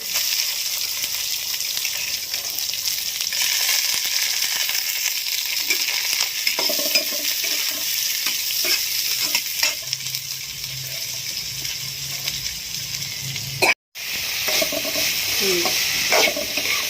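Onions fry in a pan as a spoon stirs them, a steady loud sizzle with scattered scrapes and clinks against the pan and a momentary break near the end, without any talking.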